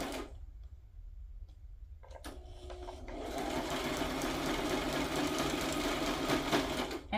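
A sewing machine starts up after a few quiet ticks and then runs steadily, a fast, close mechanical whirring and rattling stitch.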